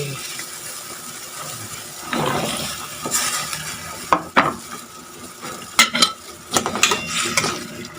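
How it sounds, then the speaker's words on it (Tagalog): Carrots go into a hot, bubbling pot of Filipino ginisang gulay vegetables. Soft simmering noise gives way to loud clattering, scraping and stirring bursts against the pot, close and uneven. "Kulong-kulo na. Lalagay ko na ang carrots."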